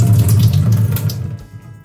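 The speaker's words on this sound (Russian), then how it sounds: "Воду надо вылить полностью." Water from a can of green peas poured out into a sink for a vinaigrette salad, a steady close splashing stream that tapers off near the end, with no talk.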